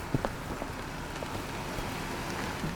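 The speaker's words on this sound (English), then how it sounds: "Go, go, run, it's raining." Rain falls steadily in an outdoor setting, a dense even patter of drops on surfaces with a few sharper nearby splats, no voices.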